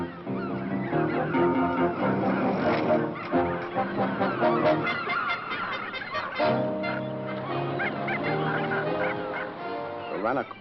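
Seabirds calling at a coastal bird sanctuary, a loud continuous clamour of honking, goose-like cries layered over one another throughout.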